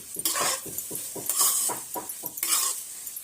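Bitter gourd (karela) sabji being stirred and tossed in a frying pan, with repeated scraping strokes of a spoon against the pan over a soft sizzle, close and rhythmic.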